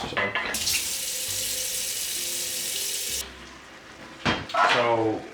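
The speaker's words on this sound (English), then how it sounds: "I'm gonna start our pasta water because that takes a little while to boil" Tap water runs steadily into a pot being filled for pasta in a home kitchen, a loud continuous broadband rush lasting about three seconds before stopping, followed by clinks and a brief burst of handling noise.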